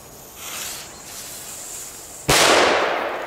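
A single small Belgian firecracker goes off with one sharp, loud bang after a stretch of quiet outdoor background, followed by a crackling decay.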